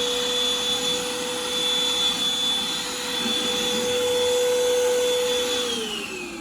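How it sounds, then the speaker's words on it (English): A miniature vacuum cleaner runs with a steady, loud whine while cleaning a free-roaming rabbit room, its motor pitch dropping slightly near the end. "All I do to clean the room is run this miniature vacuum over the whole thing every couple of days"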